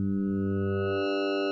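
Hive 2.1 software synth playing a two-operator FM wavetable patch, a single steady buzzy note rich in harmonics that shifts tone partway through, short and alone.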